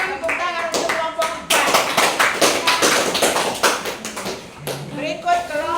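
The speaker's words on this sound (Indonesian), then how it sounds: "Tepuk tangan untuk kelompok" A group of trainees claps for a presenting group at a prompt-engineering job training session: close, irregular hand claps from a small room, with voices talking between and over them.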